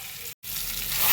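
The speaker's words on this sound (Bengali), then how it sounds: "গরম জলটা দিয়ে দিলাম, যতটা লাগবে পরিমাণ দিয়ে দিলাম গরম জলটা।" Hot water goes into sizzling fried spices and oil for a tangra fish curry; a brief frying hiss cuts out for an instant, then a louder, rising sizzle and bubbling follows.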